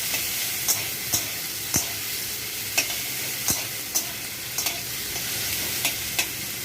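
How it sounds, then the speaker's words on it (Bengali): Chopped tomato fries in hot ghee with bay leaf, cumin and panch phoron, giving a steady, close sizzle broken by regular scraping clicks of a stirring spatula against the pan. "একটু টমেটো কেটে কেটে দিয়ে দেবো"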